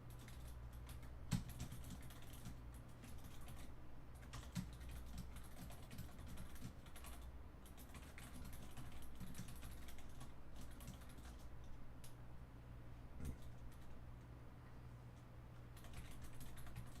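Keys clatter on a computer keyboard as a command is typed, quiet irregular bursts of clicks with brief pauses, close and faint.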